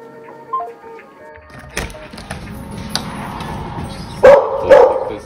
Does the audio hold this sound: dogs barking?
yes